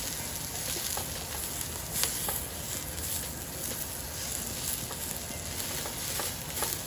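Frying lo mein in a pan after spinach goes in, giving a steady close sizzle with soft crackling and occasional stirring scrapes throughout, no talking.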